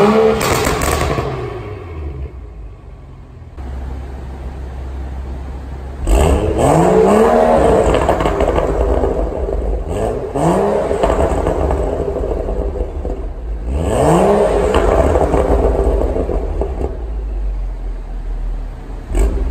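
A BMW F30 335i with catless VRSF downpipes and an M Performance rear muffler, valved exhaust switched to loud mode, barks through three sharp rising revs separated by idle, each loud, close and rumbling.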